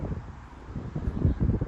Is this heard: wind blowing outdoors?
yes